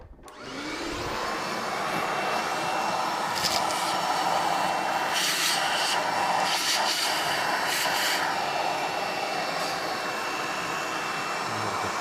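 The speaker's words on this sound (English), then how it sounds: "You're going to want a little vacuum." A small vacuum cleaner whirs loudly and continuously, sucking coffee grounds off the burrs of a Rancilio Rocky grinder, with brief rattling bursts as it moves over the parts.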